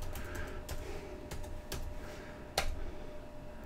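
Quick, light keystrokes patter across a computer keyboard as a command is typed into a Cisco ASA firewall, a steady run of small clicks over a constant background hum.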